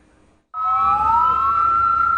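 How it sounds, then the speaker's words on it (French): A police siren starts abruptly after a brief quiet moment and wails steadily at a loud level, warning residents to stay indoors during an anti-terror raid. "Les sirènes alertent la population afin qu'elle reste chez elle."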